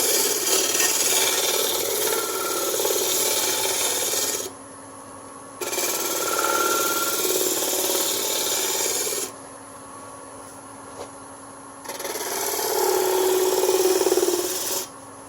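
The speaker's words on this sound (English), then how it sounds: "I'm doing a scrape cut right here. It's kind of a pull cut." On a wood lathe, a turning tool makes a pull-style scrape cut while shaping a pedestal dish, giving a rough, rasping scrape in three sustained bursts separated by short pauses, close and fairly loud.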